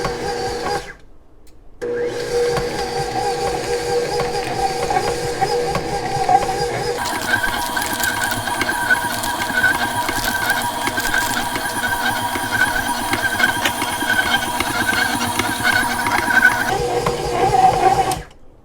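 An electric mixer churns cookie dough with quick oats and walnuts, a loud continuous mechanical whir that briefly stops early on, restarts and runs steadily, then cuts out again near the end.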